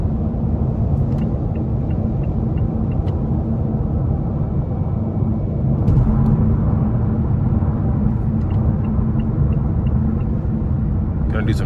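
Steady low road and tire roar from a 2021 Mazda 6 Carbon Edition on 19-inch wheels with skinny tires, a constant near rumble inside the cabin for the whole stretch with no distinct events.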